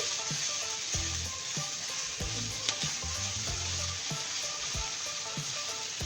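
Kale, pork and mushrooms sizzle steadily in an oiled pan, the close frying hiss broken by repeated clattering thumps as the food is tossed and stirred.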